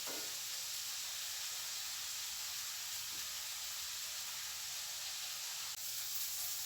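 Onions and tomatoes sautéing in a pan for a soybean curry, a steady, close sizzling hiss that holds evenly throughout with no talk.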